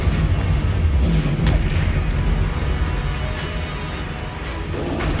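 In the Hogwarts Legacy video game, a Confringo fire spell explodes: a loud, sustained booming rumble with crackling debris that slowly fades across several seconds, alone without any voices.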